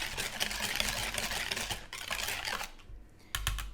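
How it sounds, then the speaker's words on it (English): Egg yolks are whisked with granulated sugar in a bowl, giving a fast, continuous scraping and clicking close up that stops briefly and then starts again. "we're going to whisk with this a 1/3 cup of granulated sugar. We're gonna whisk that together."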